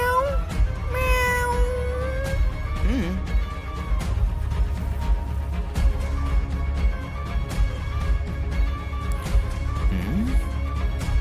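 A domestic cat meows repeatedly in a home, with several drawn-out, rising and falling calls spread across the clip over a steady low background hum.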